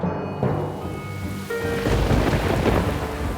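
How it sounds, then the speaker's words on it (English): A thunderstorm with heavy rain over the Colosseum in Rome: a loud rolling thunderclap opens, then dense rain hisses steadily on stone surfaces, building to a full downpour. "One night, a thunderstorm puts Morabito's theory and the surviving drain to the test."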